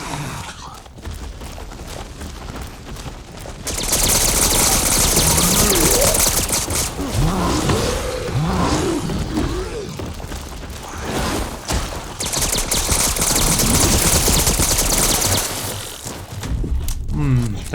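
Bursts of gunfire rattle in Resident Evil Re:Verse amid dense game noise and mechanical clatter, with a voice talking over the action.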